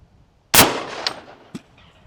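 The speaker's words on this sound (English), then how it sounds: "Let's shoot these things, see how far it goes. Alrighty, firing." .308 rifle fires a single sharp shot through a row of pumpkins, a loud close crack that rings out and decays, followed by a couple of brief impact knocks.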